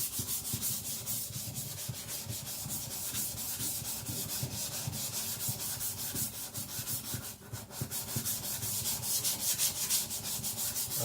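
A Victorinox Chinese cleaver being thinned and sharpened on a stone gives a steady, close, rhythmic rasping of steel stroked back and forth across the abrasive surface, continuous with no voices.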